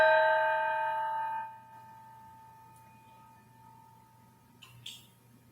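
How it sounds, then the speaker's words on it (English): A gong struck to close a meditation session in a mantra circle: a sustained, ringing tone that holds for about a second and a half, then fades into near-silence broken only by faint, scattered noises. "I will sound out the gong."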